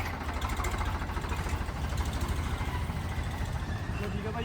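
A Farmtrac 45 tractor engine drones as it pulls away, a steady mid-pitched diesel rumble that holds an even, moderate loudness throughout.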